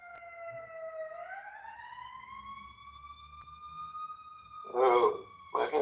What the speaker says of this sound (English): Do you hear the ambulance driving by?